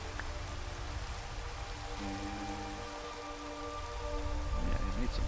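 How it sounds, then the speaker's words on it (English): Steady rainfall in the Minecraft video game patters softly and continuously, a faint, even wash of falling drops with no voices. "It's a rainy day."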